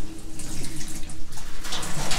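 Water runs from a shower tap in a home in southern Krasnodar Krai, a loud, steady rushing splash that fills the whole clip without speech.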